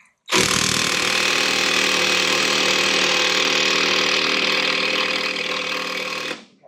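A Snap-on or Bauer impact driver loosens a nut while a wrench holds it. It gives one loud, continuous burst of rapid hammering at close range for about six seconds, with no talking.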